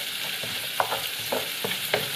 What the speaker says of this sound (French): moi, j'aime déglacer avec du vin blanc